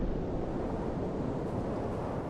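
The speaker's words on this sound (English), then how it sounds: "Oh my god, it's so windy." Strong wind roars steadily through a video game landscape, a dense, constant rushing noise with no breaks and no voices.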